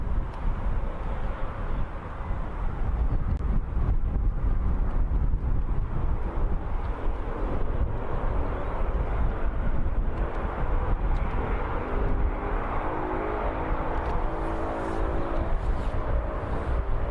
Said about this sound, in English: 11 years old, this Embraer. Off to Amsterdam.